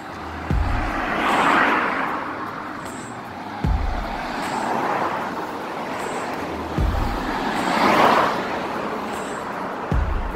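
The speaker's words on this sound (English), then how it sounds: "with all the traffic that's going by" Road traffic in Selma, Alabama swells and fades as vehicles pass one after another, each approach marked by a thump, with a broad hiss of tires and engines at moderate distance.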